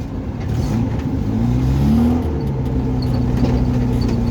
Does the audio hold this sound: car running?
yes